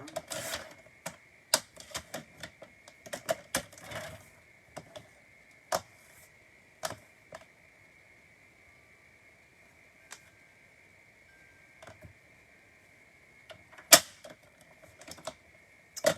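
Paper being trimmed for a handmade Stampin' Up! card on a blade paper trimmer, with a run of sharp clicks and creaks near the start, sparse scattered ticks through the middle and a louder snap toward the end, close and fairly quiet.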